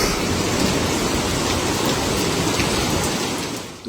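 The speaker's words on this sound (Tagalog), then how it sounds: "Tuloy-tuloy pa rin ang pag-uulan." Heavy rain pours continuously during a storm as a dense, loud hiss that stays steady and fills the whole stretch, with no voices.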